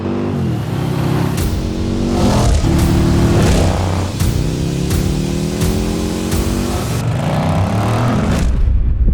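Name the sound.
liquid-cooled PowerPlus 108 V-twin motorcycle engine revving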